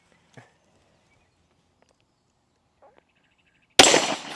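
A single loud, sharp 1911 pistol gunshot lands abruptly near the end, after several seconds of near silence broken by a few faint small noises.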